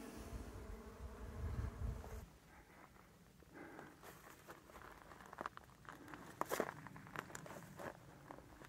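Bees buzz steadily close by on a desert walk, with a few louder passes drifting in and out over faint outdoor rustling and footsteps.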